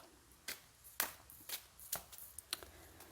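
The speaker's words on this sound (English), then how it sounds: "Shuffling the cards." Tarot cards being shuffled in a quiet room, with a series of soft, irregular riffling slaps and flicks close by.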